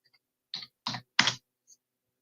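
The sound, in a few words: computer typing and mouse clicking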